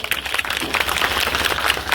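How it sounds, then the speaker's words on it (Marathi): A crowd at a devotional kirtan gathering claps together, a dense, lively patter of many hands filling the space steadily for a couple of seconds with no talking over it. "जरा दणकेबाज टाळी वाजवा चांगली"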